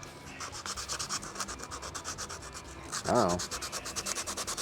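Rapid rhythmic strokes of sanding against a coated metal part on a 1932 Roadster, close and steady with a brief spoken exclamation partway through.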